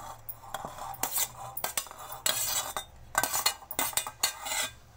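A spoon stirs chicken pieces into a marinade paste for chicken tikka in a bowl, giving irregular clinks and scrapes against the dish in quick bursts, close up and with no voices.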